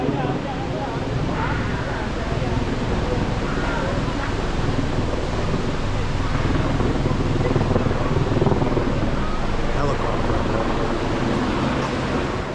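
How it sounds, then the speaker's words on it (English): A dense, rumbling helicopter roar overhead at Shannon Falls fills the whole stretch, loud and continuous, without clear rises or fades. "Helicopter."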